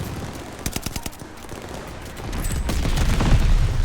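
Rapid automatic gunfire in the World War II shooter Call of Duty: Vanguard during an online match, with sharp bursts of shots followed by a swelling low rumble of explosions, loud and close with no talk.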